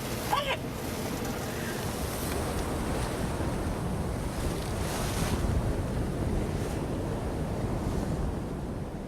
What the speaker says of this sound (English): With waves crashing and the storm pounding us relentlessly, Marcus's persistence